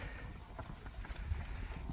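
Horses trot along together, their hooves giving a quick, faint, steady clip-clop close by, with a low background murmur and no clear speech.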